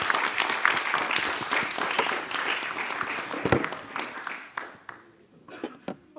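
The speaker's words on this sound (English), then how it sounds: "A big round of applause" Audience applause at a climate change competition's global finals, steady and fairly loud for about five seconds, then thinning out into scattered claps near the end.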